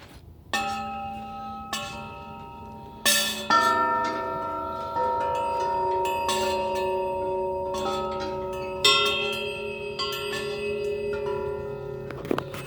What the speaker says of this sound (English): that big giant wind chime. You can hear it.